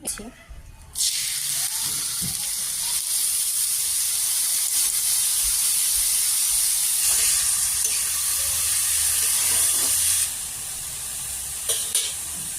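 Paneer momo filling sizzles steadily in hot oil while being stirred, a continuous loud frying hiss with occasional scraping, alone without voices.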